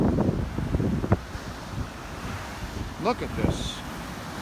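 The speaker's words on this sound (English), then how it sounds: "When the waves hit the wall and then they go back out and hit the waves that are coming in" Storm-driven ocean waves surge and crash against a sea wall in Boston, a steady windy wash with a couple of louder splashing bursts near the end, while a person speaks briefly over the surf.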